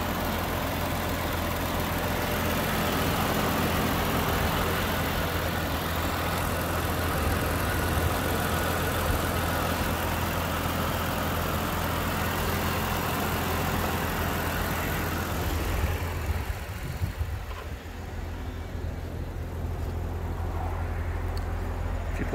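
A 2018 Maserati Ghibli's V6 idles steadily, a low, even rumble holding throughout, with a slight dip in level near the end.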